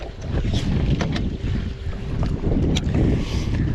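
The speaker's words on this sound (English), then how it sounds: "The wind is picking up big, so y'all just bear with me with the wind" Strong gusting wind buffets the microphone on a lake during bass fishing from a boat, a continuous loud rumbling roar with rising and falling gusts and no talking.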